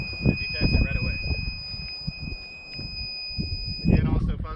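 A steady high electronic alarm tone from a G fence 600z intrusion detection system sounds continuously beneath rustling and someone talking, triggered by touching the fence, then fades out near the end.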